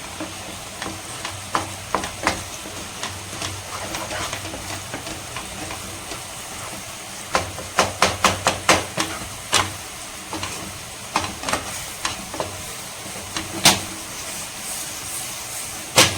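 A meat curry with jaggery cooks on high flame, giving a steady sizzling hiss broken by sharp scraping stirs that come in irregular clusters. The sound is close and there is no talk.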